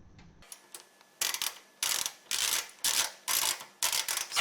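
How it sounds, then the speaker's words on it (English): Screws are tightened by hand while a budget gaming computer is assembled, a series of about seven close, sharp ratcheting clicks in short bursts, each starting loud and fading, with no talk. "So we're just going to snug the screws up"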